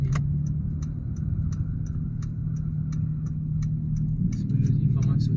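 Car engine idling in a steady low hum close by, with a regular ticking like a turn signal clicking over it and a brief rustle near the end.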